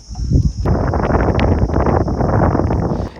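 Gusty wind by the Chuna river at high tide, a loud, rough, buffeting roar against the microphone that rises quickly and stays strong, with brief crackles and no voices.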